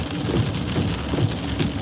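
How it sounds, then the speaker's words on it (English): Heavy rain pours steadily over Fort Myers in southwest Florida, a loud, dense, continuous hiss with no pauses. "it's going to be a lot of flooding in Fort Myers if it keeps raining"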